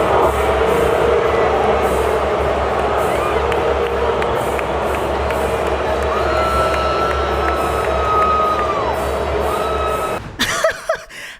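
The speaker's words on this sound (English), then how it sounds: "The moment she gets shown on the screen at the Super Bowl, she is massively booed." Huge Super Bowl stadium crowd booing Taylor Swift, a loud, sustained roar of many voices that stays steady for about ten seconds and then breaks off abruptly.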